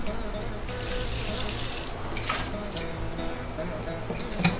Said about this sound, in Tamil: கொழக்கட்டை வேகிறதுக்குள்ளே ஒரு கொஞ்சம் பாத்திரத்தை தேய்ச்சிங்கன்னா